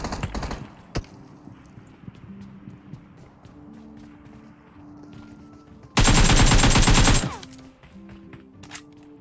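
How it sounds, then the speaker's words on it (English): Distant gunfire pops over a low rumbling background in a video game, then a loud burst of rapid automatic fire lasting about a second, followed by scattered faint shots. "I heard gunshots and I stopped without doing anything"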